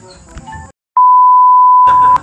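A single long, steady electronic timer beep sounds loud and alone for about a second, with quieter room sounds on either side.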